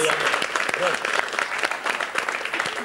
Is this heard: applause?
yes